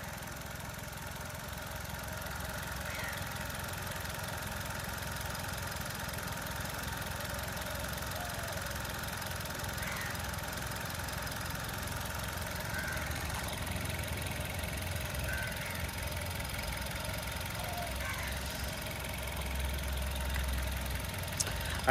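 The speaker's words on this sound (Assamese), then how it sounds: "পেট্ৰল ইঞ্জিন হয়, একদম নৰ্মেল সাউন্ড," A 2022 Maruti Suzuki Baleno petrol engine idling, a steady, smooth, fairly quiet hum that holds even for the whole stretch, heard up close with no voices.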